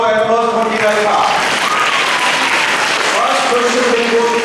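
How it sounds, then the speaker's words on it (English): At an inter-school math competition, applause greets Team Alpha and blends with voices, a continuous bed of clapping under a speaker talking over it throughout. "Give a big round of applause for Team Alpha"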